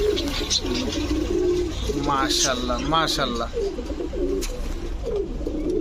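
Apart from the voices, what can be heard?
Pakistani babra pigeons cooing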